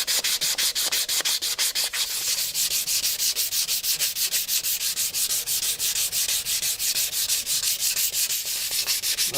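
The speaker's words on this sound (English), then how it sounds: "Nothing a little sandpaper can't fix." Sandpaper worked steadily over a composite plastic part, with fast, even rasping back-and-forth strokes heard close up and alone, no talking.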